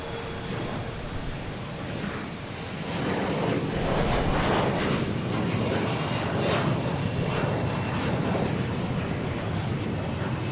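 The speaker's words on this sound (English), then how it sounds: "Here it is, FedEx MD11. Coming in from Memphis." A FedEx MD-11 tri-jet airliner from Memphis lands at Boston Logan, a loud steady jet roar heard from outside that swells midway and holds, with no talk.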